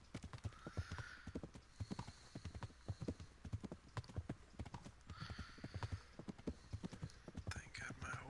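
A horse gallops in the video game Kingdom Come Deliverance, its hooves beating a steady, fast clip-clop close by and fairly quietly, with brief whinnies and the faint rustle of movement, while someone talks over it at times.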